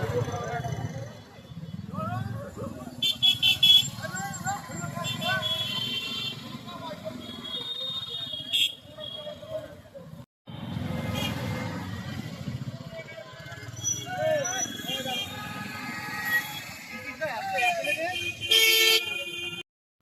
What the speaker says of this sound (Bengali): এত গাড়ি কি বলবো বন্ধুরা, বাইক চালানো এত অসুবিধা হচ্ছে।